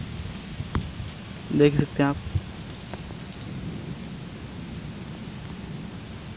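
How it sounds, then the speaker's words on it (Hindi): Light rain falls outdoors under cloudy skies with wind, making a steady soft hiss throughout. Someone speaks briefly near the start. "थोड़ी थोड़ी बारिश आ रही है"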